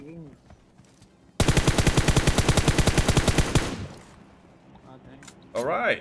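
M4 rifle fire in the video game PUBG, a loud rapid automatic burst of about two seconds with evenly spaced shots, followed by quieter game sounds and brief talk.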